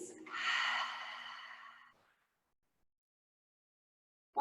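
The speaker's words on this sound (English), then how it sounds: "Open the mouth, exhale, and release." A single deep breath let out through an open mouth during a yin yoga session, a breathy close exhale lasting about two seconds before silence.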